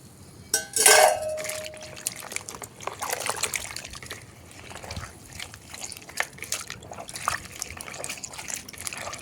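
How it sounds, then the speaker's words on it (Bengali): Water is poured and trickles into a container to soak a homemade feed for dragon fruit plants, a brief splashing fill near the start followed by soft dribbles and small knocks. "আরও খানিকটা জল দিয়ে এটা ভেজানো থাকবে"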